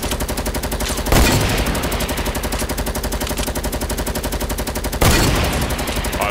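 Fortnite gunfire: a dense, loud, continuous rattle of rapid automatic shots runs throughout, with two heavier sharp reports standing out about four seconds apart.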